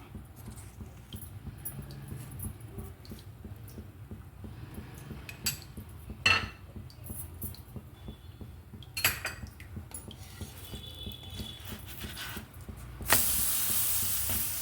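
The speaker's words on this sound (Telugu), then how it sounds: "బటర్తో కానీ నెయ్యితో కానీ కాల్చుకోవాలి" Dhaba-style aloo paratha roasts with butter on a pan, giving a soft, low sizzle under repeated spatula scrapes and metallic clinks, ending in a louder burst of frying; no talk is heard.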